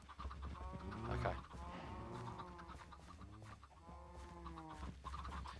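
Chickens on an egg farm in Minecraft cluck and croon continuously in overlapping calls, moderately loud and close, with no talk over them.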